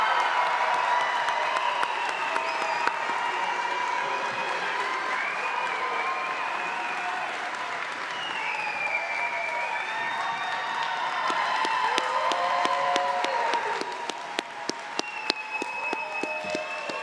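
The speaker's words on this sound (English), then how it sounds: "let us now congratulate all the graduates with our cheers and applause" Graduation ceremony audience at a summer commencement cheering and applauding, a dense, sustained wash of clapping with whoops and shouts rising above it, steady and loud throughout with no voice speaking.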